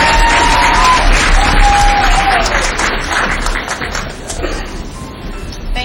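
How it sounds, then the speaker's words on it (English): Loud, sustained audience applause and cheering for the co-chairpersons at the 2003 Huntingburg Herbsfest pageant, a dense crowd clapping steadily that fades slightly toward the end. "So please give them a round of applause."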